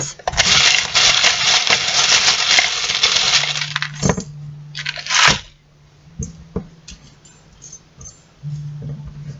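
Small fortune-telling charms are shaken hard in a loud rattling burst, then cast down with scattered clicks, a sharp clatter and a few light taps.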